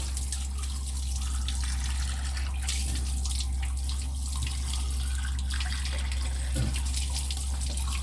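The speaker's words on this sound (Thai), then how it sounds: "ต้องทำความสะอาดให้แล้วเราไปนำไปล้างเกลือก่อน ให้สะอาดนะครับ" Tap water runs steadily while fish are washed with salt, a continuous close splashing stream over a low constant hum, with no talking.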